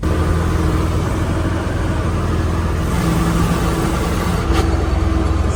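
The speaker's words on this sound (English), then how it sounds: "She gets after it, making a whole lot of clanging and banging noises" A 1978 K-30 dump truck with a Muncie gearbox drives along with a loud, steady engine rumble close to the microphone, and a sharper clattering burst breaks through near the end.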